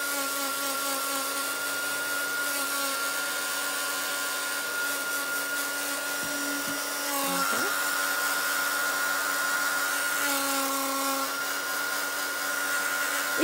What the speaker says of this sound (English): now I'm going to dry this off with my heat tool because this particular paint is not the fastest drying